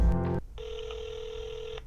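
A telephone gives one steady electronic ring lasting just over a second, clear and moderately loud, following a brief burst of other tonal sound.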